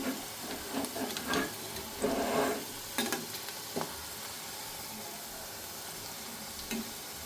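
Onion pakoras (peyaji) frying in hot oil, a steady close sizzle and hiss with occasional stirring clicks and spatters, no voices.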